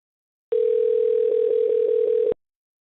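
A telephone line tone sounds while a number is being called: one steady, unbroken tone of about two seconds, clear and alone, starting and stopping abruptly.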